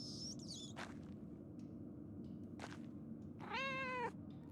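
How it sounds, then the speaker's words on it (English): A cat in the medieval-set video game Pentiment gives a single rising meow near the end, preceded by a few faint short sounds over a low steady background hum. "look, it's a cat"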